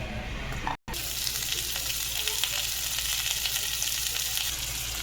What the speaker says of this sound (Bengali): প্রথমে পটলগুলো ভেজে নেব।